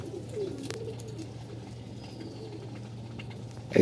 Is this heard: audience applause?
no